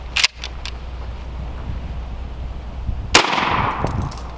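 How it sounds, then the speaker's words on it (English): A gunshot fired at a handcuff chain, with a sharp short crack near the start and a second loud report about three seconds later, followed by a brief ringing tail over steady background noise. "let's shoot it one more time"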